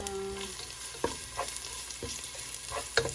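Corn sautéing in a pan, a low, fairly quiet sizzle with a few separate spoon taps and scrapes spaced out across the few seconds.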